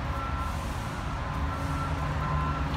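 A construction truck sounds a steady run of evenly spaced reversing beeps at a middle distance, heard over a low engine rumble and outdoor background noise.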